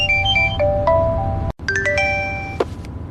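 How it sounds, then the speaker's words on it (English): A mobile phone rings with a bright melodic ringtone, a run of clear chiming tones that stops briefly and then plays again, loud and alone with no talk. "Then his phone rang."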